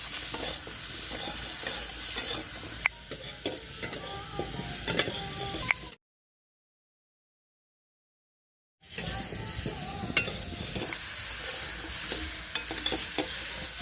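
Turmeric and chili powder sautéed in oil for a rohu fish curry with cauliflower and potato, a close, constant sizzle with clicking stirs that cuts to a few seconds of silence midway before resuming.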